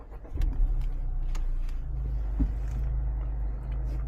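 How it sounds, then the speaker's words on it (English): A Honda Civic Type R engine restarts with a soft click and then settles into a low, steady idle hum heard from inside the car, with no talking. "Restart the car again."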